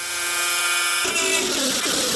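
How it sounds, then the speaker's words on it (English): A Dremel rotary tool spinning a wire wheel over fresh welds on a patched Studebaker Hawk car door: a steady high whine that turns harsher and scratchier partway through as the wire bites the metal. "Got the area around the weld cleaned up as best I can with a wire wheel on a Dremel"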